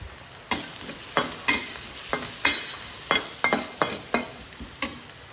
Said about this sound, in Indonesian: Sekarang masuk bawang putih.